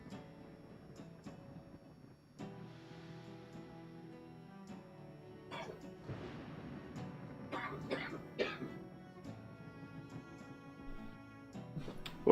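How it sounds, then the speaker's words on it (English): A person coughs a few times during a live game session, in short rough bursts partly mixed with background game music and low ambience. "A little bit of coffee. Cough."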